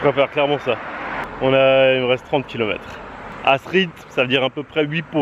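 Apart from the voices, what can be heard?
None of the usual background noises is heard.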